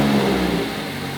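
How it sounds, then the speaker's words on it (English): A Mazda Miata engine idles after an oil change, a brief steady mechanical hum with a low drone, close and fairly loud. "I'll turn the engine a little bit, run it for a couple minutes, and then turn it back off."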